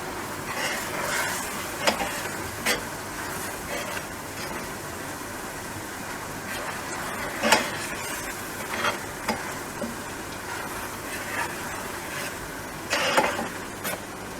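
Spices, chili powder, salt and tomato frying in a pan: a continuous sizzle under frequent scraping and clacking of a spoon stirring against the pan, close and busy, with no voices.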